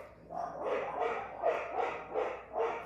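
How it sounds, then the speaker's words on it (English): Several dogs bark in a run of about six loud, evenly spaced barks close by indoors, with whimpery yips mixed in. "those are my dogs"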